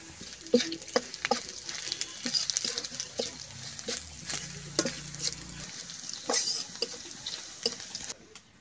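Chopped onion and cumin fry in a pan with a soft, steady sizzle, punctuated by many light spoon taps and scrapes throughout, then going quiet at the very end.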